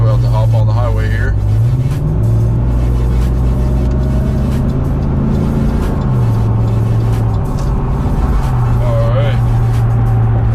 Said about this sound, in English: Truck sounds great.